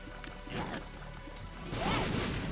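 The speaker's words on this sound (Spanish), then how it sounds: "Explosión" A crashing burst followed by scattered debris, then a second, louder explosive crash with rumbling tail, from a bomb explosion in The Binding of Isaac: Repentance.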